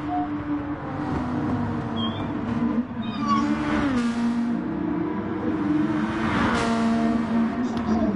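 Race cars run at the Tsukuba circuit in a video game, with engines whining and revving as they pass close by. The pitch rises and falls, and the sound stays loud and continuous throughout.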